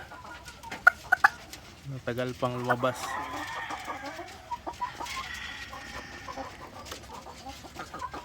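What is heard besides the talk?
hen clucking while laying an egg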